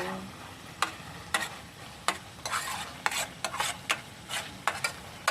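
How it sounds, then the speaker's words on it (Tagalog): Corned beef fries in splattering oil in a pan, sharp sizzling pops and crackles bursting irregularly over a quieter hiss, close by and with no talk. "Talsik-talsik na naman ng mantika yung ano ko, lutuan ko."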